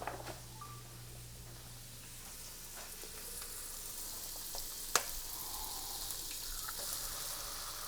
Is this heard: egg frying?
yes